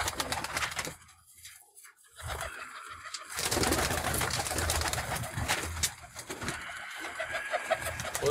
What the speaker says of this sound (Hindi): वो कबूतर मेरा भाई देख लें